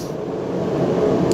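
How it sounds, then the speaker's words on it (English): A heater running in a cold garage gives a steady, broadband whooshing hum that stays constant and fairly loud throughout, with no talk over it. "I'm sorry about the noise and I'm yelling there, I've got the heater on in the garage"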